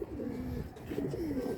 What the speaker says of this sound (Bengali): এই যে একটা মাদি কবুতর